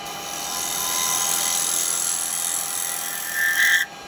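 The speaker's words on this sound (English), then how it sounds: "Work off the tip of the tool, lovely fine shavings." A woodturning tool cuts fine shavings from kiln-dried wood spinning on a lathe, making a steady close-up whine and hiss with a brief louder rise before the cut stops.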